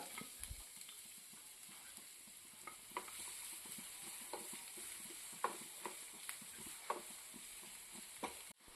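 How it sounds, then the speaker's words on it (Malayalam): Chopped onion and a pinch of salt are stirred in hot coconut oil in a pan for a Kerala squid roast, giving a soft, steady sizzle broken by scattered spatula scrapes and taps, faint and close. "അതിലേക്ക് അരിഞ്ഞു വെച്ച സവാളയും അല്പം ഉപ്പും ചേർത്ത് നന്നായി ഇളക്കി കൊടുക്കുക"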